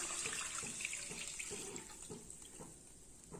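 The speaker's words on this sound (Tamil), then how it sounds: "இது பால் விட்டுக்கலாம்." Milk pours steadily into a pot for rice payasam with a continuous splashing rush that slowly eases off, close by and with no talking.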